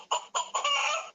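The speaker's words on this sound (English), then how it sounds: "And this one I just think sounds like a sick chicken." A toy gives a chicken-like clucking call: three short, close clucks followed by one longer drawn-out cluck, loud and near, with no talking.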